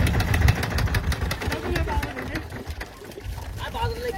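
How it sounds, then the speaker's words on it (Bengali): Motor-driven pump drawing water at a fish pond in rural Bangladesh, a steady mechanical drone running throughout, heard close under people talking. "যে মেশিন দিয়ে জল তোলা হচ্ছে"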